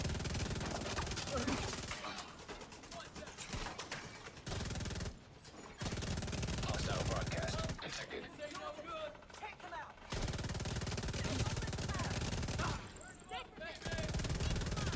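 Gunfire from The Division 2 rattles in dense, sustained bursts broken by short gaps, loud and close through most of the stretch.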